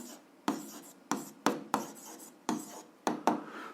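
Pen writing out an algebra solution on paper, a series of about eight short, close scratching strokes in irregular rhythm with brief quiet gaps between them.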